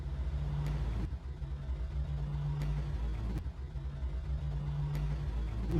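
Turbocharged BULL-MARO car engine rumbling with repeated revs and sharp cut-offs, a steady low drone pulsing in rough cycles, no talking.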